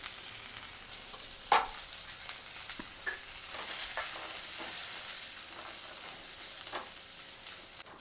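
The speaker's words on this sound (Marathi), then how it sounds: "खोबरा आणि कांदा एकत्रच भाजायचा." Gentle, steady frying of coconut and onion roasting together in a pan over low heat, with a low sizzle and occasional scrapes and taps as the contents are stirred. No voices.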